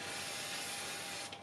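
CRC contact cleaner sprayed from an aerosol can onto felt track-cleaning pads for a model railway, a steady close hiss lasting over a second before stopping, with no talk.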